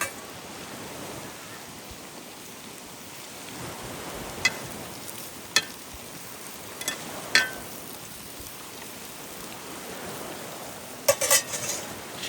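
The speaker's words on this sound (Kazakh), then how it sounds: "Ет қуырылды." Meat fries in a pot for plov cooked outdoors on the Caspian shore. A faint, steady sizzle runs throughout, broken by a few sharp metallic scrapes and clinks of stirring.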